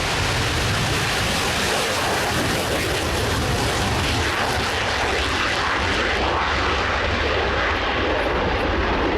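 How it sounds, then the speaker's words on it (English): Roaring jet engine noise from a Polish Air Force Mikoyan MiG-29A Fulcrum flying at an airshow, a loud, continuous broadband blast that stays dense and powerful throughout. "MiG-29A, the Fulcrum."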